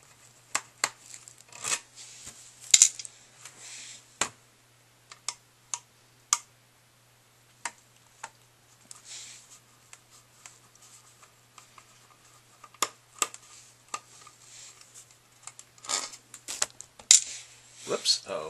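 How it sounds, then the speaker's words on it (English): A screwdriver works tiny screws on a Gigabyte Brix mini PC, giving sparse small ticks and clicks with quiet scraping, close and faint against a low steady hum. "getting your screwdriver slotted in these tiny little screws"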